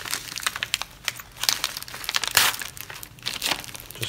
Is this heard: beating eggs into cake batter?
no